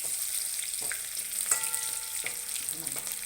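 Green chilies fry in hot oil with a continuous close sizzle, broken by a few crackles and light stirring clinks, and no talking.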